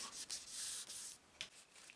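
Steady abrasive rubbing of sandpaper over a guitar's finish coat, in long continuous strokes with brief pauses, close and fairly quiet.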